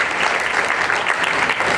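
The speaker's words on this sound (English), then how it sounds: "maybe we could give a round of applause" Applause from an audience at a Hindu temple gathering fills the space with dense, steady clapping, loud and continuous, and no voices come through.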